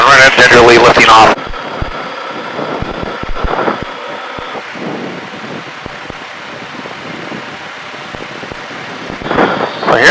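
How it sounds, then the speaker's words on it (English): An Aeronca Champ light airplane lifts off in a gentle soft-field takeoff, its small engine droning steadily and close, with a voice speaking over it at the start and end. "the airplane's just kind of gingerly lifting off"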